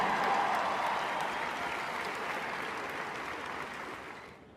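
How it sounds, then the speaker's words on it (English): A stadium crowd at an Ohio State pre-game Skull Session before the Purdue game claps in dense, sustained applause that slowly fades away. "Another round of applause for Max Cogswell from Marietta, Ohio"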